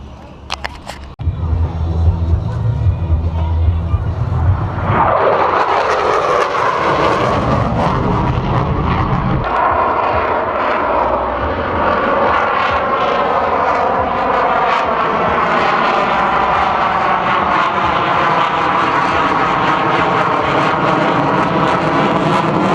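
Military jets in a memorial formation flight, an F-22, an F-35 and a P-51, pass overhead at an airshow, starting with a sudden loud roar that swells into a long, heavy, slowly shifting jet rumble.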